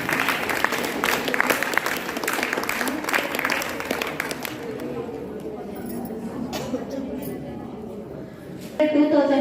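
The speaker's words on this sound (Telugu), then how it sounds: "ఒకసారి వాసవి క్లాప్స్ గట్టిగా." Applause from an audience at a Vasavi Club Vanitha office bearers installation ceremony, loud sustained clapping that fades after several seconds, with a voice starting to speak over the hall at the end.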